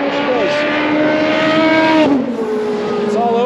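A Lamborghini hypercar is running on track at COTA. Its engine screams close and loud with a rising pitch, dips sharply around a gear change or pass, then climbs again.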